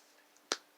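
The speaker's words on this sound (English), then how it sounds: "I don't know why I'm clapping as I'm talking" A single sharp hand clap rings out close and loud after a near-silent moment, clean and isolated with a quick decay.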